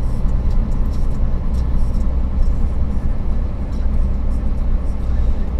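Truck engine labouring at low revs, around 900-1000 rpm, during break-in in city traffic: a steady, loud low rumble droning continuously with no distinct revving, close and dominant throughout.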